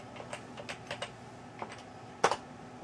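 Light clicks of typing on a computer keyboard, a handful of separate keystrokes tapped at an uneven pace, ending with a louder key press.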